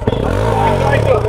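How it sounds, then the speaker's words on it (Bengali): A GPX Demon 250 motorcycle engine runs steadily and loud at close range, its low throbbing note briefly rising, with people talking over it. "আর এটা হচ্ছে বাইকের সাউন্ড"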